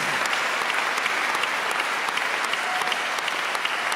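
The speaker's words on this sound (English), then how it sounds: "And yes, you can clap for that one too." Steady applause from a concert audience at the final round of an international piano competition, dense and continuous clapping with no voices, filling the whole stretch at an even level.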